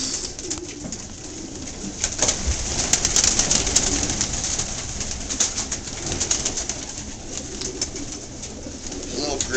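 Pigeons coo softly and repeatedly close by, with rustling, wing flutters and occasional background talk.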